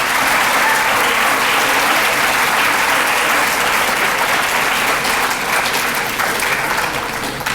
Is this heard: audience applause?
yes